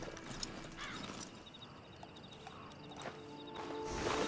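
Horse hooves clip-clopping in the video game Red Dead Redemption II, soft irregular hoofbeats at a walking pace over quiet ambience, fairly faint and close, with a few light clinks and no talk.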